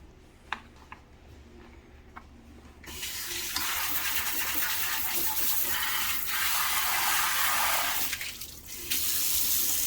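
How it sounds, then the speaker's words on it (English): Water gushes in a steady stream as it is poured into a homemade immune-boost drink. The stream begins about three seconds in, runs loud and unbroken, and dips briefly before resuming. "I'm going to add a couple more cups of water, maybe another 2 cups or so."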